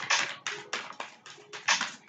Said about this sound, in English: If you hear some crunching in the background, my dog is eating her food.